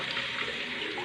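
Water runs steadily into a toilet bowl from the fill valve, a brief continuous hiss and trickle heard up close.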